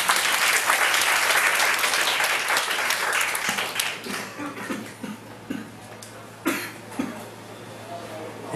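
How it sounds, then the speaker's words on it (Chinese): Warm audience applause in a hall, loud and dense at first, then thinning into scattered claps, coughs and throat clearing before fading out. "大家热烈掌声一下"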